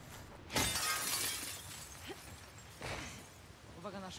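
Glass shatters in The Last of Us Part II, a sudden loud crash with a trailing tinkle, followed by a second fainter breakage while someone talks.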